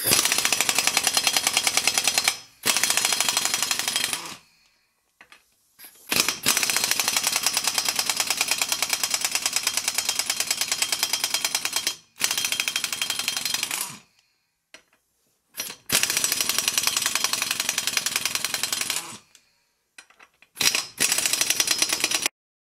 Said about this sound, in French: Donc là on retire la roue à l'aide du 17.